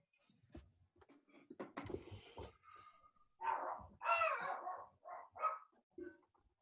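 A dog barks several times at close range, the barks coming in uneven bursts with short gaps between them and some softer yips, after a stretch of quieter rustling and faint sounds.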